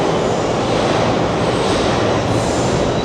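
A subway train rumbles loudly and steadily through the 7 line platform at Bryant Park station in New York City, with continuous rail roar and faint wheel noise throughout, close by and with no talking.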